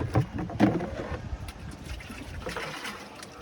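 Decomposed water being poured into a container and stirred while preparing jeevamrutham, a few splashing pours and sloshes up close followed by softer trickling.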